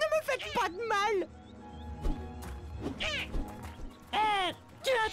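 Cat meowing in the video game The Legend of Kay, several loud, close, drawn-out meows and yowls in succession, separated by brief quieter gaps with background game sound.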